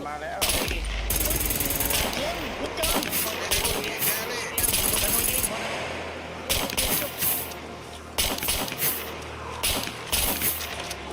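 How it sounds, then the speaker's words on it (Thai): Rapid bursts of video game gunfire from Atomic Land 2080, loud and close, coming in clusters with short gaps and mixed with mechanical clatter and other game effects. "เอาเลยยิง"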